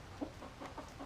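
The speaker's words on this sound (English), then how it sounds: "Move, chicken. You got any more eggs?" Chickens cluck softly in a backyard coop, with a few faint, scattered clucks close by against a quiet, low background.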